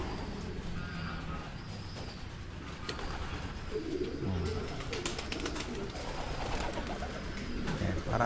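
Pigeons cooing inside a breeding coop, with a male and a hen together, giving repeated soft low coos close by, layered with faint chirps and a steady background hum.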